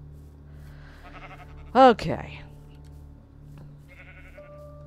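A sheep bleats once in a video game, a short wavering cry standing out over steady game ambience, with a person speaking briefly nearby.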